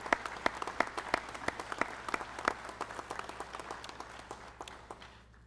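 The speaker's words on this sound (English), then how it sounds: "let's give them a round of applause for taking time out of their schedule to join us" A graduation ceremony audience gives a round of applause. Dense, distant clapping from many hands carries on for several seconds, then thins out and fades.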